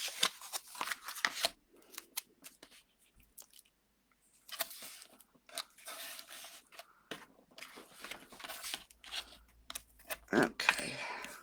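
Tape being torn and pressed onto a cardstock box for storing 6x6 designer paper, with bursts of crisp ripping and rustling that come and go in irregular spurts, close up, and no talking.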